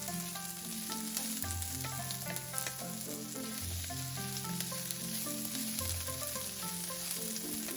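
Potato chunks stir-fried with green and red peppers in a wok, a steady dense sizzle running throughout with faint scraping of the stirring, under a continuous background tone and no voices.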